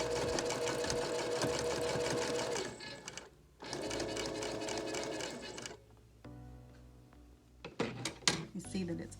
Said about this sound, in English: Make sure that they line up and sew right across there.